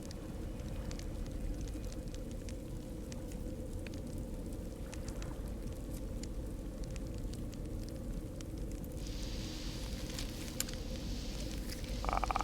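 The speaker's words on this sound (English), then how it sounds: "That fireplace sounds great." A fireplace crackles steadily in No Man's Sky, a dense, soft patter of small pops and snaps over a low rumbling bed, continuous and moderately quiet with no talk.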